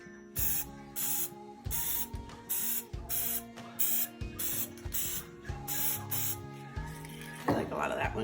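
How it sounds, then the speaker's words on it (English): Shimmer spray spritzed in quick, regular bursts onto a tumbler, about a dozen short sharp hisses at a steady rhythm, close and fairly loud, with a brief rattling sound near the end. "We're just going to randomly spritz it in here."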